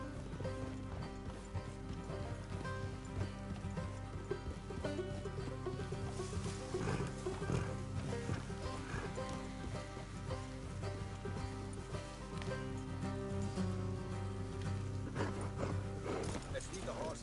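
Horses' hooves clip-clop along a road in the video game Red Dead Redemption 2, a quiet rhythmic clatter running under a music score and background game sound, with no speech in the clip.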